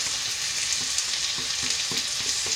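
Sliced red onions fry in thin oil in a pan, giving a dense, constant sizzle and hiss with soft stirring taps, close and alone without any talk.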